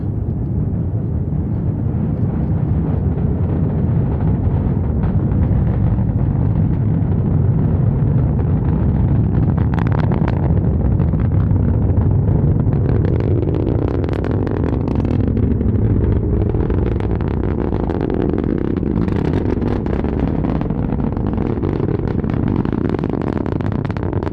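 A SpaceX Falcon 9 launch: a deep, continuous rocket engine roar rumbles steadily throughout, crackling louder partway through, with no voices.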